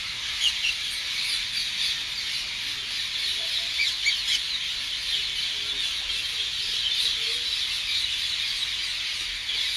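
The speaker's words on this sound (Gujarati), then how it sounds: "જો મીઠો અવાજ પોપટની ઝાલર." Parrot calls on a farm ring out steadily throughout, a dense, continuous high-pitched chorus of chirps and squeals, fairly loud and with no voices.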